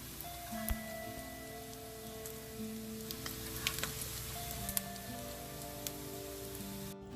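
Fish marinated in chili sizzling as it fries in coconut oil in a hot pan, a quiet, continuous crackle with scattered pops and a few short clinks of utensils close by.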